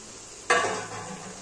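Ginger-garlic paste dropped into a pan of fried onions while cooking a Bengali mutton and potato curry: a sudden sizzling burst that fades to a gentle frying hiss.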